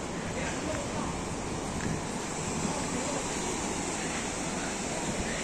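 Sea waves wash onto a beach near a coastal fort, a continuous broad surf roar with some wind buffeting on the microphone, steady and fairly loud with no clear voices.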